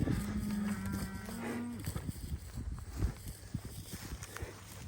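A cow lets out one long, fairly close moo as cattle are moved toward a gate, followed by shuffling hoof steps and rustling across the pasture, overall quiet.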